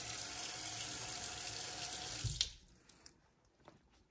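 Kitchen tap running water into a sink to thaw frozen reindeer liver, a steady close rushing stream for over two seconds, then shut off, leaving faint drips and small clicks.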